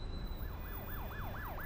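A police patrol car siren in The Precinct wails in quick repeated rising and falling sweeps, about six cycles, moderately close over a low traffic rumble.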